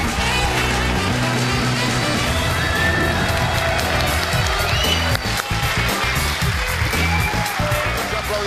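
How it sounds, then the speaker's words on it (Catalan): Studio audience at a Catalan TV dictation contest show applauds and cheers, a dense continuous roar of clapping and crowd noise filling the room at a loud, even level. "Aplaudiments"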